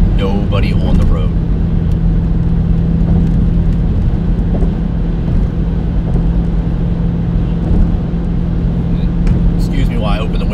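A car cruises along an empty early-morning road, a steady engine hum with a low droning tone under road rumble, while a person talks over it from inside the cabin.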